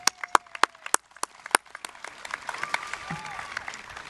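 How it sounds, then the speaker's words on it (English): Scattered clapping at an outdoor high school commencement, a handful of sharp individual claps at first that thin into a light patter of distant applause, with faint crowd noise and a murmur of voices beneath. "let's give him a round of applause"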